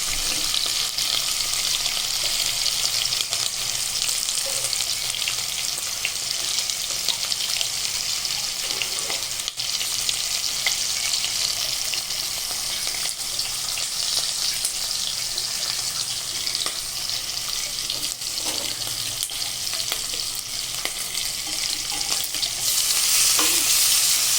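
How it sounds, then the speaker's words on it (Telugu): Masala-coated pieces fry on a high flame. A loud, dense, continuous sizzle and crackle sits close to the listener, with a few clinks from stirring, and it holds steady throughout. "ముందు కొద్దిగా హై ఫ్లేమ్లో ఫ్రై చేసుకొని"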